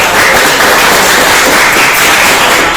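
Students in a school manufacturing workshop classroom applaud together, a dense, loud, continuous burst of clapping that fills the whole moment with no voices over it.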